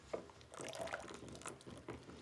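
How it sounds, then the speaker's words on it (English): Homemade sugar syrup, made from sugar dissolved in hot water and cooled, is poured into a cocktail in a kitchen. It makes a soft, quiet trickle and splash lasting a couple of seconds, with no talking. "And now I'm going to add my sugar syrup."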